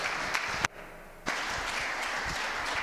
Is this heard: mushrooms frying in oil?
no